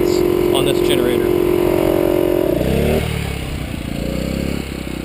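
Harbor Freight 1.5hp 6-gallon oilless air compressor running beside a generator, a loud rapid chugging drone with a steady tone that shifts and drops to a rougher clatter partway through.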